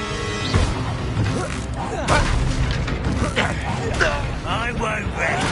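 A fire spell is cast in the Hogwarts Legacy video game, producing whooshing, booming combat effects layered under a character's spoken incantations during a fight.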